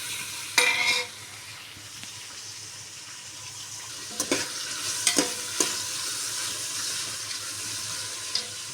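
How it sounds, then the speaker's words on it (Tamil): Onions sautéing in a pan until golden, a steady soft sizzle with a few sharp scraping stirs and clinks scattered through, close and moderately quiet, no voices. "நல்லா பொன்னிறமாக ஆகிற வரைக்கும் வதக்கும்."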